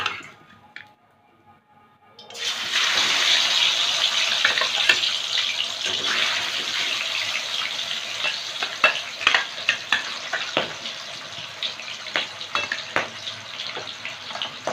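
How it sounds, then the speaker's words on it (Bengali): Boal fish fry in hot mustard oil in a wok, a loud, close sizzle erupting after a quiet start and continuing with bubbling crackle and sharp spitting pops, no talk. "কড়াইতে সর্ষের তেল দিয়েছি, তেলটা গরম হয়ে গেছে। এবার মাছগুলো ভেজে নেব।"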